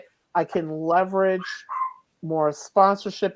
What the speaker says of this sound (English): And you may hear my chihuahua barking in the background.